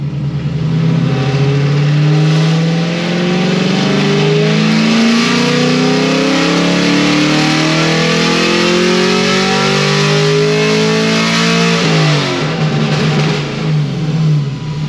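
A loud car engine fitted with new heads and cam, running an ethanol blend on a dyno, revs in one long, rising pull that peaks near the end, then drops sharply back down, unbroken by talk.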